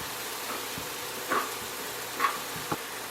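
Vegetables for steak tacos cooking in a pan, a steady low sizzle with a few faint scrapes and taps of a utensil, close and even.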